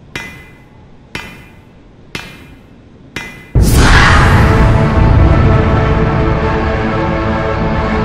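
Hammering on drywall during repairs in a horror video game: four sharp, evenly spaced hammer blows, then a sudden loud, sustained crash or noise burst that continues to the end.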